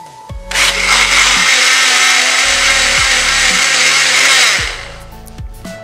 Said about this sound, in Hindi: थोड़ी सी काली मिर्च, थोड़ा सा जीरावन, अब पहले हम इसको ग्राइंड करेंगे।